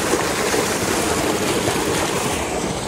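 A tubewell beside a flour mill pumps water in a strong, continuous gushing rush, loud and close, steady throughout without pauses or voices.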